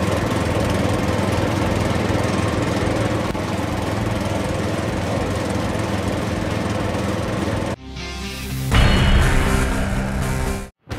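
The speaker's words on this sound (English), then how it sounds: "it combines the new Mulag Green maintenance head with a reliable prefabricated boom system. This ensures a clean, precise mow in one pass." A Mulag Green maintenance mowing head on a prefabricated boom mower runs steadily at the roadside, a loud continuous engine and cutting roar that briefly dips, then surges harder and cuts off near the end.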